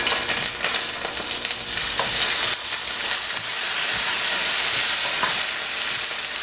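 Garlic and tomatoes frying in oil for a fish broth, a continuous bright sizzle and hiss up close with occasional stirring clicks and pops, no talk.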